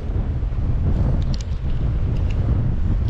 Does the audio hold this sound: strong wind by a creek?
yes